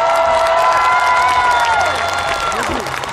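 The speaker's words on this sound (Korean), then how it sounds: "박수 함성!" A festival concert crowd in Uiryeong applauds and cheers for a singer, loud continuous clapping and shouting with a held musical tone ringing on top that slides downward and fades near the end.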